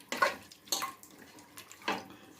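Water poured into a pot of country chicken fry in bursts, three splashy gushes with short gaps between, close and moderately loud.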